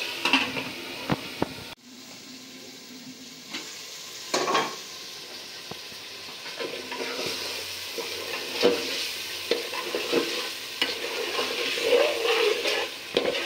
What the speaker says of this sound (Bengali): মুরগির মাংসটা মশলার সাথে ভালোভাবে কষাই নেব